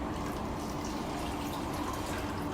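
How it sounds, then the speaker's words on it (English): Kangen water poured out of a container, a steady, soft liquid splash and trickle running continuously without pause, close and fairly quiet, with no talking. "we can even pour some of that out to give our viewers a better view"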